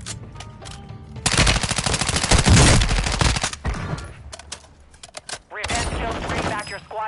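Gunfire in the video game Warzone 2.0: loud, close bursts of rapid automatic fire with a long sustained burst, then a pause and another clattering burst, amid game sound effects.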